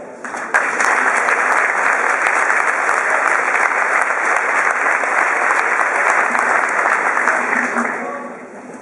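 Sustained applause from a graduation ceremony audience welcoming the class speaker, a dense steady clapping that starts abruptly, holds loud for several seconds and tapers off at the end.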